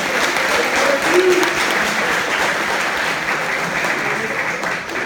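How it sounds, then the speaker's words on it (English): Audience applause at a hypnotist comedy show at Alvernia University, a steady dense wash of clapping from a crowd lasting the whole stretch, with a brief voice speaking over it near the start. "Give these folks that we lost a big round of applause for coming up"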